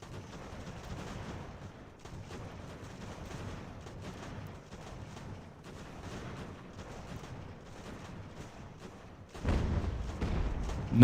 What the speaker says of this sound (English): Firing that artillery is like firing right down their line.